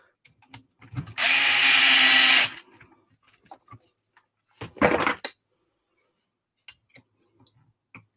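A power driver sinks screws into a Losi Lasernut front differential on an RC car: one steady whirring run of about a second, then a shorter burst, with small clicks and taps of handling parts between.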